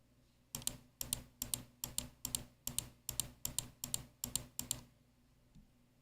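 A steady series of about eleven loud, sharp clicky keypresses on a mechanical keyboard with blue switches, evenly paced and close, then quiet.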